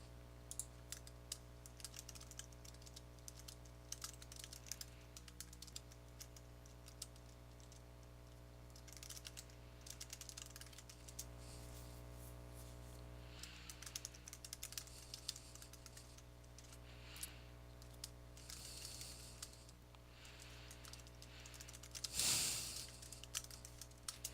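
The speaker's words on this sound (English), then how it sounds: "I'll just go ahead and type that." Steady, soft clicking of keys on a computer keyboard during an online card game match, close and quiet over a constant low electrical hum, with a short louder clatter near the end and no talk.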